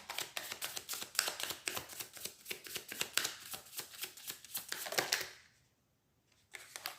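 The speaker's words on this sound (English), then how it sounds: "After this I shuffle, so we make sure we get everything really shuffled." Tarot cards are shuffled in quick, steady riffling bursts for about five seconds, then pause and start again, close and fairly quiet.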